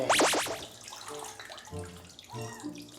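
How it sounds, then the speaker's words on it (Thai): Water runs and splashes while cats are rinsed during a bath, close and steady, with gurgling, a few sharp squeaky tones and handling noises. "ล้างน้ำเปล่านะครับ"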